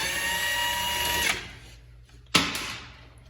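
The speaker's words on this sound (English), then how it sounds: "We'll drive that right out with our impact." A hammering impact wrench rattles out the centering pin bolt of a rear leaf spring during a Super Duty axle swap, one long burst followed by a short second hit, loud and close.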